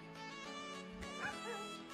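A puppy whimpering in a few short, faint, high whines and yips at home, fairly close but quiet, with no talk over it.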